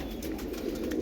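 Pair of Jan Aarden pigeons cooing softly and steadily at close range, a low continuous murmur with no talking over it.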